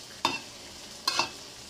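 Papaya and pumpkin greens cooking in a pan, with two short scraping, clattering strokes of a utensil stirring them over a faint background hiss.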